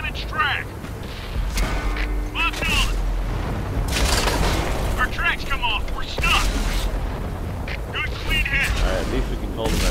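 Tank cannon shots in World of Tanks ring out as sharp booming blasts amid continuous game noise, with a voice talking over the battle.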